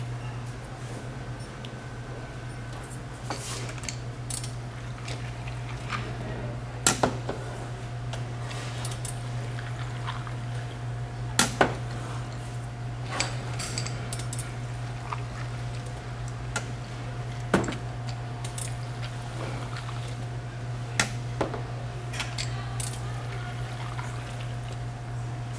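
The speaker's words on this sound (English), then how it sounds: "Now watch how fast and accurate I can pour 5 Long Island iced teas with the Touch and Pour" A Touch and Pour Cocktail Tower dispenses five Long Island iced teas in a bar setting. A continuous low flow of liquid runs under a steady hum, broken by occasional sharp clicks and taps.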